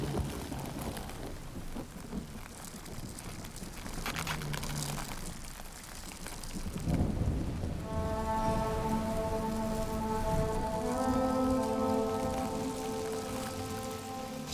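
Steady rain pours down on a surface for the whole stretch, with a low rumble of thunder rolling in near the middle of the storm.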